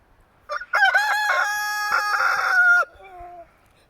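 A rooster in a duck yard lets out a single loud, close cock-a-doodle-doo with a long sustained middle, and a softer trailing call follows at the end.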